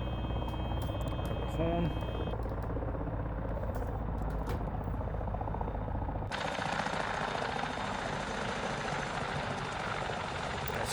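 Simulated 500C helicopter idling in a flight simulator game, a steady rotor and turbine drone that shifts abruptly to a brighter, hissier roar partway through, with someone speaking briefly over it.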